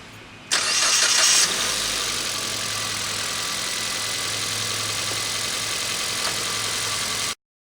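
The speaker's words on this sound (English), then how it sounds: "I'm going to go ahead and start it up, and we'll see where this tanks while it's under a load with the starter." A car engine cranks briefly on the starter while the battery is under load, catches, and settles into a steady, loud idle that runs for several seconds before cutting off abruptly.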